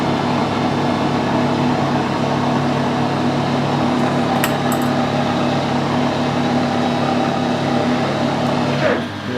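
Metal lathe running in reverse as a 12mm die nut backs off a thread, a steady close mechanical hum and whir with a brief faint metallic tick partway through, ending in a soft clunk.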